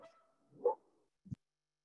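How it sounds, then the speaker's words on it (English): A single dog barks once nearby during a remote meeting call, a short muffled woof followed by a brief thump, with quiet room tone around it. "now I got a dog barking"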